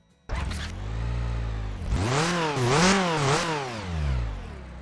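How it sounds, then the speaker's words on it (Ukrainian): A simulated car engine in a training simulator game cranks and catches at once, then settles into a steady, close idle with a few brief revs rising and falling. "Двигун завівся і стабільно працює."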